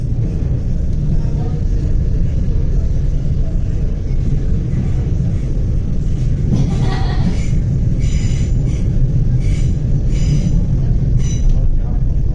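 Steady low rumble of a moving commuter train heard from inside a carriage on a quiet public holiday in Melbourne, with clattering and brief higher rattles over continuous loud noise and occasional voices in the background.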